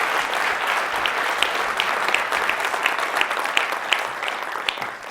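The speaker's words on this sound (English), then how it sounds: "Give Francois a fantastic round of applause, please" An audience at a presentation in Bonn, Germany gives a steady round of applause, dense and even throughout, many hands clapping together in a large room.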